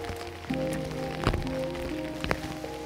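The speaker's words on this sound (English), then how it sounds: "this heavy rain that set in" Heavy rain pours steadily onto jungle foliage under a citrus tree on Hawaii's Big Island, a continuous close wash of drops with a few louder splashes and faint steady tones in the background.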